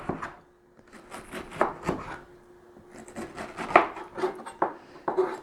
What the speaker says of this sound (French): Là, je vais commencer l'autre morceau, le couper.